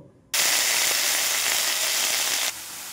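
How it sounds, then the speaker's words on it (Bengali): Leafy greens, lau shak by name, drop into hot mustard oil in a wok and burst into a loud, steady sizzle that holds close and even before easing off slightly near the end. "প্রথমে আমি শাকগুলো ভেজে নেব"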